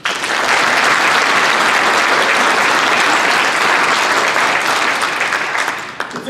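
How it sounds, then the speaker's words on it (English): Audience at a 50th anniversary Vietnam War lecture event giving a final round of applause, loud sustained clapping from a large crowd that fades slightly at the end. "Please join me in a final round of applause for everyone who has served or helped in any way to the dedication of our country."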